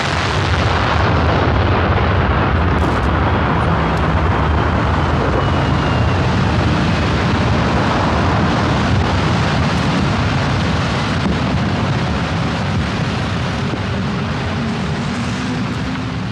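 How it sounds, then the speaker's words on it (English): The huge underwater blast that removed the top of Ripple Rock in Seymour Narrows, heard as a dense, continuous roar of rumbling noise that stays loud the whole time, with no speech. "The blast was a complete success, lowering the top of Ripple Rock to nearly 50 feet below the surface at low."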